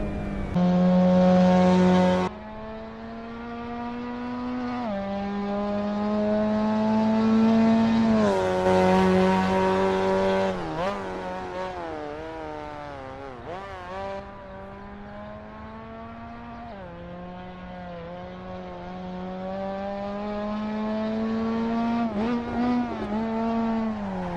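A Japanese race car in an Assetto Corsa replay screams loudly through the gears, its engine note climbing, dropping at each shift and climbing again, with brief tire squeal as it passes.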